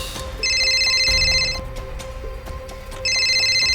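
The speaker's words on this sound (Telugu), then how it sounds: "నరేంద్ర ఫోన్ చేస్తున్నాడు" A phone rings with an incoming call in two bursts of bright electronic ringing, a pause between them, over a quiet indoor background.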